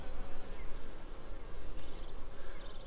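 Honey bees buzz steadily and densely around an open hive during a mid-July inspection, a close, continuous hum with no voices.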